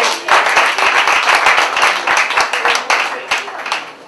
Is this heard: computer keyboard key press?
no